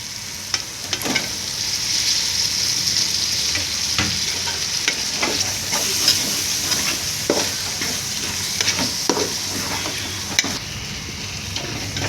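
Tomatoes frying in masala for a wheat rava beef biryani, a constant close sizzle with frequent scraping and clacking of a spoon stirring the pan.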